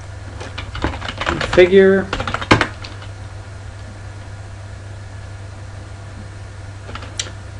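Quick keystrokes clatter on a computer keyboard as commands are entered during a Mono install on openSUSE 11.4, a short close burst of clicks with a brief spoken word among them, then a hum with a couple of faint clicks.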